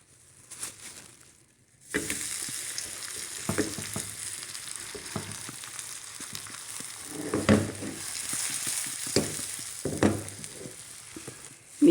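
A radish-stuffed whole wheat paratha lands in a greased pan and fries, starting after a short quiet lead-in. A continuous close sizzle follows, broken by scattered crackles and pops.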